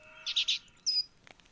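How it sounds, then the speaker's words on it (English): A small bird in the video game The Book of Unwritten Tales 2 gives three quick bright chirps, then a single longer whistle, close and clear against a quiet background. "Hello, bird. Got anything to say for yourself?"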